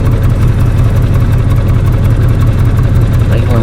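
Audi RS6 with its resonator deleted idling: a steady, deep, throbbing engine rumble recorded close, about a metre away in line with the tyre, loud and even throughout.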